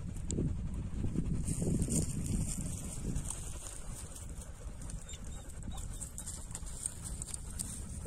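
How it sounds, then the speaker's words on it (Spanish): Steady breathy huffing from dogs panting close by, a continuous rhythmic rasp with faint background hiss and no talking. "el jadeo de los perros, de mis perras que están aquí conmigo"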